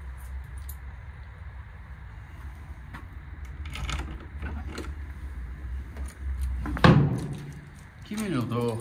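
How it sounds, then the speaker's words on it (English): A communal entrance door in a residential development foyer opens and closes, with a sharp latch clack and thud near the end amid faint rustling and footsteps, plus brief talk. "Communal door."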